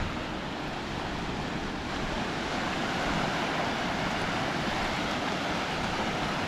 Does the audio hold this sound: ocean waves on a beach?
yes